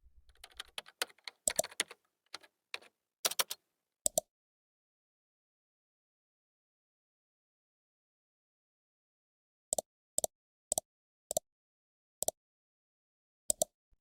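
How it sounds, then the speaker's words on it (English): Computer keyboard typing comes in quick bursts of sharp key clicks, then a long silence, then single evenly spaced taps, close and clean with no voices. "I add a typing sound effect"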